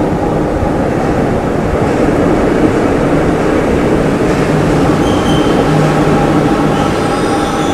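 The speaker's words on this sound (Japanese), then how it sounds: "C 線の列車がやってきました。" A loud, continuous rumble of a C line subway train pulling into a station in Argentina, with a faint high squeal of wheels near the end.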